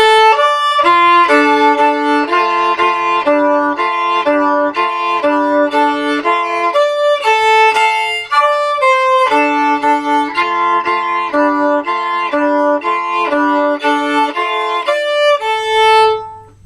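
Violin playing the build-up of a song slowly in double stops, a steady run of sustained two-note chords in even rhythm, close and loud, alone with no talk, ending with a brief fade.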